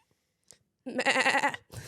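A person voices an imitation of a goat bleat, a loud, wavering, trembling cry lasting under a second, set between brief quiet moments and a short breathy sound at the end.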